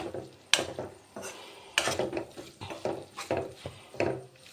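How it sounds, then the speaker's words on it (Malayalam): Spatula working a chicken masala mixture with gizzard and liver in a pan, repeated scraping strokes and knocks against the metal in an uneven rhythm, close up with no talk. "മസാല എല്ലാം കൂടി മിക്സ് ആക്കിയിട്ട് നമുക്കിതൊന്ന് വഴറ്റിയെടുക്കാം"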